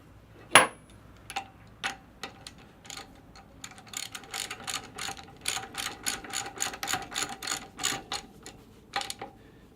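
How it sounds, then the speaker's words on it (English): A socket ratchet clicks rapidly and steadily while unthreading a valve from its housing, close and clear, with a louder clack at the start and no talk. "socket and unthread the valve from the housing"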